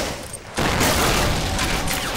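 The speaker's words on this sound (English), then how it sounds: "So mortar's opened up." Mortar and small-arms fire in the Men of War video game battle at Carentan: a dense, loud barrage of booms and crackling shots begins abruptly after a brief lull and continues steadily.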